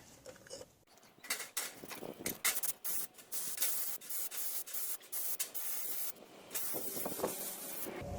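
Repeated bursts of aerosol spray hissing, short and long blasts in irregular succession, close and fairly loud, with faint handling sounds between, while servicing carburetors of an Evinrude 40 HP outboard motor.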